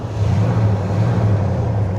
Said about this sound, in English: The car still idles rough as hell, man.